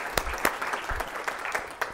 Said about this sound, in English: just a round of applause for yourself